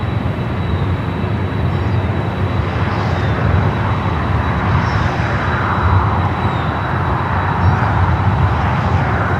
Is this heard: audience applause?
no